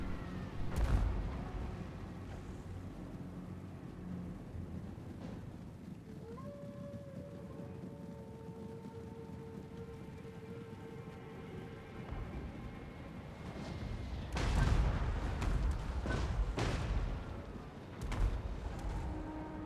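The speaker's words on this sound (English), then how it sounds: "Bombs away. Let the mortars do their thing." Mortar artillery fire in the fantasy battle game Total War: Warhammer 2, with deep booming blasts rolling under a constant battlefield din, a heavy burst near the start and a louder cluster of impacts toward the end.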